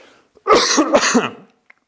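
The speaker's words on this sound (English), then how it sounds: "I'm going to cough now, I'm sorry." A single close, loud cough bursts out in two quick hacks, with near silence before and after.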